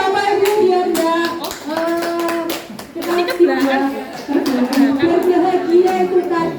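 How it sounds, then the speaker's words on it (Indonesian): Several people clap hands together in an uneven burst at a school gathering, while voices talk and sing loudly over the clapping. "Saya tepuk tangan ya Bapak Ibu"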